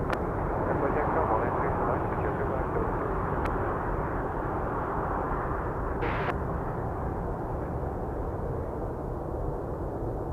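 A jet airliner takes off at Seoul Incheon airport, its engines a loud, steady roar that fills the whole stretch without easing.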